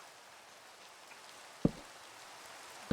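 Rain falling in the video game Minecraft, a soft steady hiss of in-game rainfall with two sharp knocking taps cutting through near the end.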